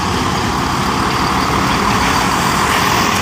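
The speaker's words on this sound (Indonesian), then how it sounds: "Satu unit Scania bawa eskavator Komatsu PC 200 guys" Scania truck hauling a Komatsu PC200 excavator on a road at night, a loud continuous diesel engine rumble with broadband road noise and no talk.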